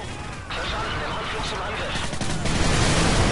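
Explosions and gunfire from Call of Duty: Modern Warfare 3 gameplay, a continuous dense barrage of blasts and shots that grows louder toward the end, with no speech over it.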